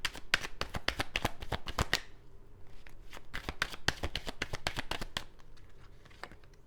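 Tarot cards are shuffled for a reading, giving rapid crisp riffling flutters in two close, fairly quiet runs split by a brief pause, with no talking.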